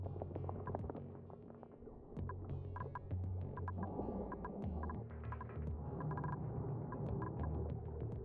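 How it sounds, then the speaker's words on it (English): A pump in a colony-building game hums and throbs steadily as it draws a vacuum, with a low pulsing drone and scattered clicks and blips from the game over a continuous bed of sound. "It's kind of neat that the pump's drawing a vacuum periodically"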